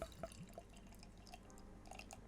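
Golden ale poured from a bottle into a glass, heard as sparse, quiet drips and liquid splashes against a faint background hum, with no talking.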